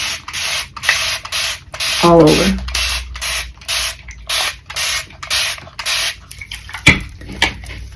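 A spray bottle mists water onto a doll's curly hair in about a dozen quick, evenly spaced spritzes, close and crisp, with a brief voice and a dull knock partway through.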